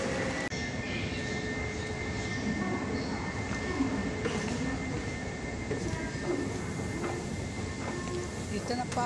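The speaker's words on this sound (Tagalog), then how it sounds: "Dito na po ako ngayon sa MRT sa loob." Steady low rumble and rattle inside a moving MRT metro train car in Sanchong, with constant broadband noise and faint background voices throughout.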